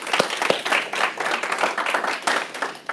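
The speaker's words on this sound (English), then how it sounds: "Let's give Brian a round of applause." Applause from a young professionals gathering, a few nearby hands clapping in quick irregular bursts with a fuller crowd behind, steady and moderately loud for about three seconds.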